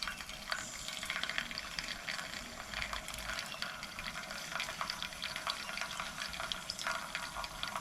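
Water flows steadily while coffee is poured, a continuous splashing, gurgling stream heard close and at even loudness throughout, with no talking over it.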